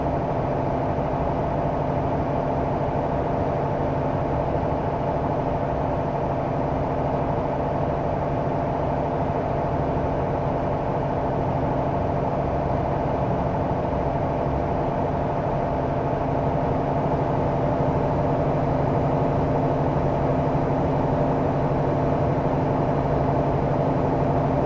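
A truck engine idles steadily in American Truck Simulator, a continuous low, even drone with a faint hum on top that holds for the whole stretch, with no one talking.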